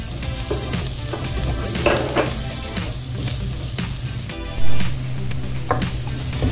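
Red onion and garlic sauté in a pan with a loud, steady sizzle and crackle, stirred with occasional scrapes and a clatter of utensil against the pan.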